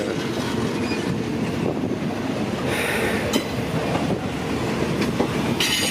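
A locomotive rumbles along the rails up close near Bang Sue, steady clattering wheels with occasional high metallic squeals cutting through the heavy noise.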